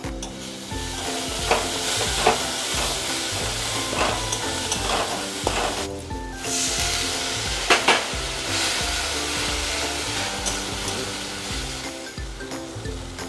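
Tarka spice tempering sizzling in a pan of egg tarka dal: loud, continuous frying sizzle with stirring clatter and a few sharp crackles, close and with no voices.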